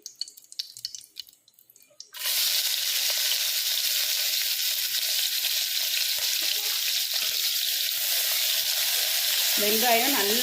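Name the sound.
onions frying in pan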